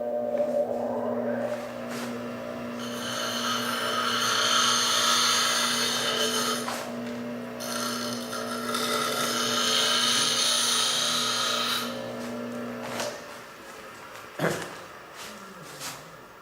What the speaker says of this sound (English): I like to use the rougher, coarser grit wheel to put a burr on here.